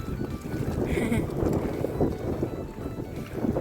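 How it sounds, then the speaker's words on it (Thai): Dry, cold-season wind blows across an open rice-planting field, a steady rushing roar that buffets the microphone without a break and with no talk over it. "ฟังเสียงลมในลมแห้ง ๆ"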